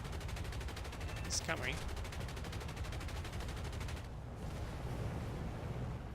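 Rapid, sustained machine-gun fire from aircraft gunners in War Thunder aboard a PB4Y-2 Privateer bomber, a dense continuous rattle over engine drone that thins out near the end, with a brief spoken remark partway through.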